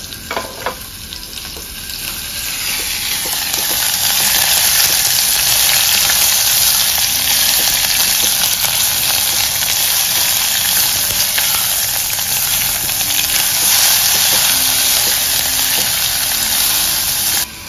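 Onion frying in a pan for Goan potato bhaji gives a loud, steady sizzle and crackle that builds over the first few seconds and then holds evenly, close up with no talk.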